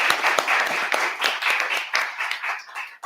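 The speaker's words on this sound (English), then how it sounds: "So give them a big round of applause." An audience at a community forum on missing Ohioans breaks into applause, a dense, lively wash of many hands clapping at close range that begins to thin toward the end.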